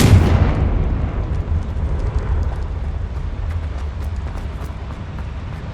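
Confringo blasting-spell explosions in the video game Hogwarts Legacy: a loud, booming blast opens, then a long rumbling decay with scattered crackles fades out, with no talking.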